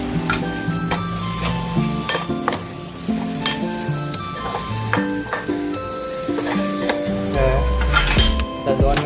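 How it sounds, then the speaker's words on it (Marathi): Mackerel (bangda) drops into a sizzling tomato masala in a pan, a loud close sizzle with metal utensil clinks and scraping against the pot, ending in a stronger burst of frying. "तर ह्याच्यामध्ये आपण आता हे मच्छी टाकून घेऊ."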